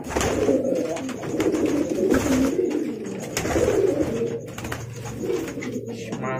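Paired pigeons coo during courtship, a repeated close-up throaty cooing in rhythmic bursts with wing flutters and rustling, and no talk.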